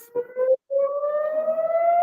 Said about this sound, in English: the sirens behind me and jets in